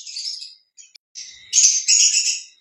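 Hagoromo budgerigars in aviary cages chirp in bright, high twittering bursts, some brief and some sustained, loudest near the end, with short silent gaps between calls.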